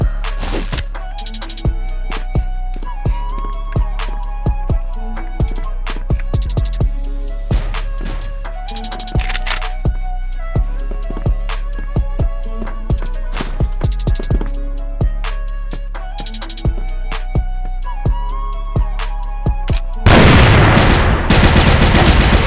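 Rapid gunfire from the online shooter game CrossFire, dense bursts of sharp shots repeating steadily and loudly for most of the stretch, ending in a louder wash of noise.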